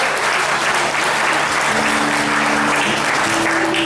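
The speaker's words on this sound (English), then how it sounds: "So give yourselves a big round of applause." A concert crowd at Knott's claps loudly and continuously for a country band, a dense steady wash of applause that fills the whole stretch with no talk over it.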